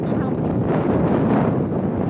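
Wind rushes and buffets the microphone in a loud, steady low roar on misty Devil's Peak in Hong Kong, with a voice faintly mixed in underneath.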